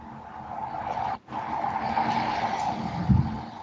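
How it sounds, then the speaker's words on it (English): Road noise from a passing car comes through someone's open microphone as a steady, moderately loud rushing drone with a hum. It has one brief dropout and a low thump near the end. "Someone has their mic on and you can hear car noises in the back."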